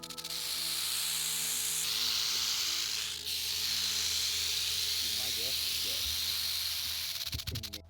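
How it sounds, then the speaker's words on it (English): A rattlesnake shakes its rattle in a loud, continuous buzzing hiss that holds close and steady for most of the time, with a brief dip midway and faint background sounds near the end. "Going off with his rattle, telling me, don't mess with me, I'm gonna kill you."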